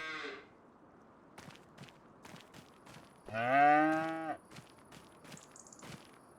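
A cow on a farm gives one long, loud moo at close range, set against a quiet outdoor background with faint scattered knocks and rustles.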